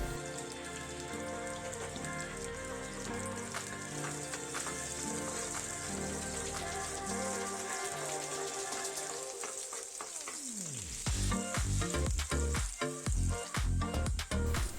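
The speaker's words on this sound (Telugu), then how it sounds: "ఆయిల్ వేడెక్కాక కట్ చేసుకున్న ఉల్లిపాయ ముక్కలు వేసుకోవాలి." Cut onion pieces go into two tablespoons of hot oil in a pan. A soft steady sizzle jumps to a louder, crackling fry as they hit the oil, continuing close with no voices.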